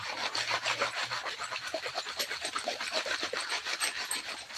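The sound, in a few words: bits of glass scraping in a gold pan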